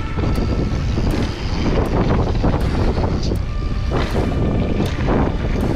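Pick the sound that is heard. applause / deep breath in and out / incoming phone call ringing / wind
wind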